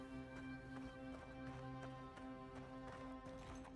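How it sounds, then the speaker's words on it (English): Horse hooves clip-clop in a quiet, steady rhythm in the video game Avowed, faint and distant over a low droning tone, with no clear neigh standing out. "The neighing."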